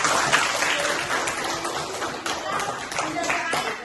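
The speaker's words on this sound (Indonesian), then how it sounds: "tepuk tangan dong" A classroom of students breaks into lively applause, a dense patter of many hands clapping at close range that carries on throughout with slight swells and dips.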